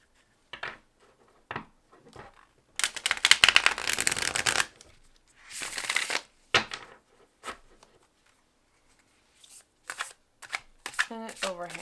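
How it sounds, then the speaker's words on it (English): A deck of eco-friendly tarot cards printed on natural-pigment paper is shuffled by hand in several bursts of riffling and rustling, close and fairly loud, separated by pauses and short taps of the cards being squared. "It's a good shuffle."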